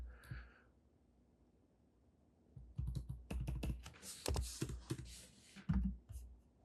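Computer keyboard keys clack in quick irregular bursts while code is copied and pasted, close and crisp, beginning with a few isolated taps followed by a dense run of typing.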